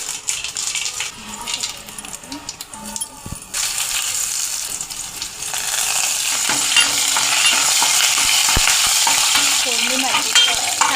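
Mustard seeds, garlic and cumin dropped into hot oil for a tempering, for a jackfruit vegetable curry; a loud, continuous close sizzle and crackle that swells as the pan heats, with stirring clinks and no talk.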